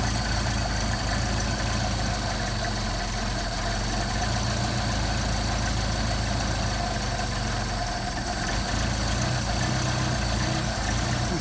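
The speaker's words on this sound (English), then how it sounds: "which is your fast idle, which you can see, or you can hear" A rebuilt Solex-carbureted Mercedes 190SL engine runs at fast idle, a steady, loud, even rumble with a rough low-end beat that holds unchanged for the whole stretch, no voices over it.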